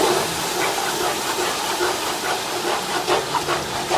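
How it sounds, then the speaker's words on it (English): Milk being stirred into a flour roux for biscuit gravy on a Blackstone griddle, a steady sizzling hiss with faint scraping, close and continuous. "Once you get that flour mixed in, just like so, you're going to want to add your milk. Stir in your milk."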